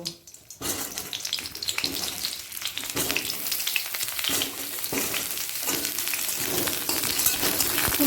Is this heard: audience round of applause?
no